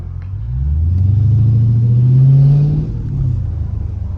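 A Dodge 392 Hemi Scat Pack V8 with gutted catalytic converters revs hard, its deep loud rumble climbing and holding before easing back to a burbling idle, close and alone.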